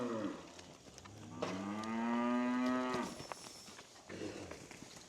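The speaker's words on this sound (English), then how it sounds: "There's 1 or 2 cows over there." Cows moo outdoors: one long, loud, drawn-out moo rises near the middle, with fainter lowing and rustling before and after.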